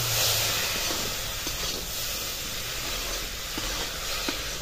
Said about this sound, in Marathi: हे वाटाणे असे घालून द्यायचे आणि परतून घ्यायचे ह्या फोडणी बरोबर आपले वाटाणे